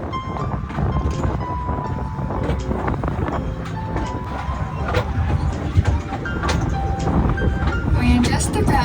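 A tourist train rolls into a station platform, a steady loud rumble with rattling clatter and squeaking metal throughout, while a voice talks over it.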